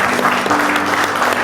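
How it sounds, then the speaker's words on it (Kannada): Audience applause at a valediction ceremony, a steady dense wash of clapping hands filling the short clip with no voices over it. "ಇಂತಹ ಚಪ್ಪಾಳೆ ಸಿಗ್ತಾ ಉಂಟು ನಿಮಗೆ"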